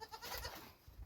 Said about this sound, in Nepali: यता तल बाख्रा कराउँदैछ